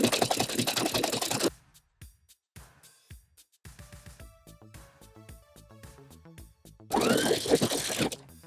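A sewing machine runs a zigzag stitch along a dress hem in two loud, rapid whirring bursts at the start and end, with softer clicks and handling noises between.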